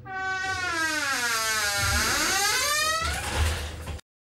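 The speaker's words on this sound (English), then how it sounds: "The door slowly creaked open under the grip of my left hand." A door creaks slowly open in a long, drawn-out squeal whose pitch wavers and bends for about four seconds, loud and close, ending with a low rumble before cutting off.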